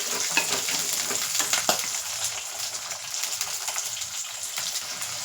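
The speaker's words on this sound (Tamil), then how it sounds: "பூண்டு நல்லா எண்ணெயிலேயே வதக்கணும்" About 200 grams of garlic sizzles and sautés in hot oil in a pan, a steady close crackle with occasional stirring, no one talking.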